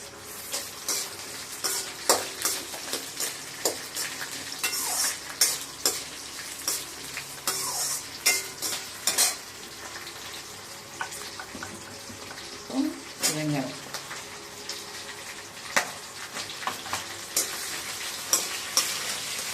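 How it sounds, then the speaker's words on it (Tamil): Green chilies and tomatoes sautéing in a pan for Andhra-style chutney, a steady sizzle with repeated spatula scrapes and stirring knocks, close up, while a voice talks at times. "நல்லா வதங்கணும் ஒரு பத்து நிமிஷம் வதங்கினாதான் நல்லா இருக்கும்"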